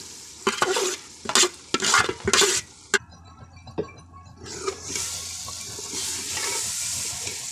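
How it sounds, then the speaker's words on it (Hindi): Boiled split chana dal is stirred and fried in masala in a pan: sharp scraping knocks of a spoon against the pan, then a steady loud sizzle, with no one talking. "बस इस मसाले के अंदर डाल के इसको अच्छी तरह भूनना है।"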